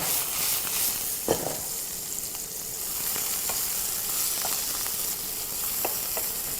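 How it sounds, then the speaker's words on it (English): Dried shiitake mushrooms seasoned with black pepper and salt fry in a pan, giving a steady, bright sizzle, with occasional sharp pops and stirring clicks scattered throughout. "And just fry it until it's nice and brown."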